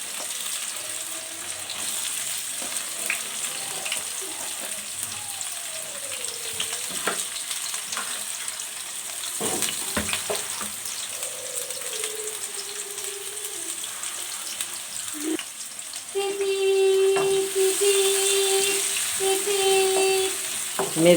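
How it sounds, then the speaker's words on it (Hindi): Onions frying in hot oil for a carrot, pea and potato curry, a steady close sizzle with occasional stirring and clinks, rising louder toward the end, no talking. "अब मैं इसमें प्याज ऐड कर देती हूँ और प्याज़ों को हम गोल्डन गोल्डन ब्राउन कर लेंगे।"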